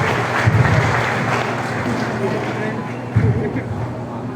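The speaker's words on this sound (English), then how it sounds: "Let's give him our own applause, please." Audience applause at a school graduation ceremony, a steady broad wash of clapping from a large crowd with a brief swell near the end, heard over the hall's background murmur.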